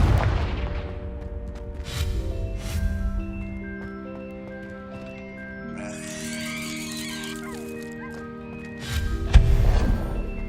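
Spell-casting blasts in the video game Hogwarts Legacy: a few heavy booming impacts, spaced apart and one near the end, over sustained game music.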